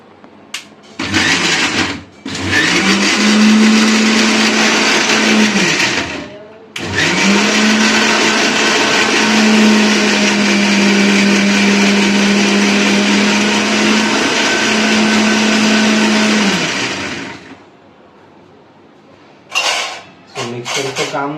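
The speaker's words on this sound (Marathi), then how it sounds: "चटणी वाटणं चालू आहे." A mixer grinder grinds chutney with a loud, close whirring motor in two long runs: a short burst, a brief stop, then a sustained stretch that cuts off near the end, with a few clatters afterwards.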